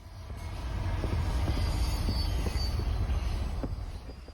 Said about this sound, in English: Driving back home, we passed an assortment of trains on the way.